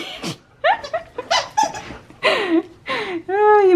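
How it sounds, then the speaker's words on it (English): Service dog making a string of high squeaky whines and yelps, close by and uneven, some rising and falling in pitch, with breathy sounds between them. "Harlow, why are you making so much noise?"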